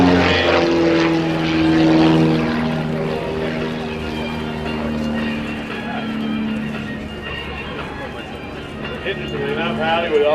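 Aerobatic propeller plane with an IO-360 engine performing at an airshow, its loud steady droning engine note rising and falling as it maneuvers, heard under a commentator talking over a PA.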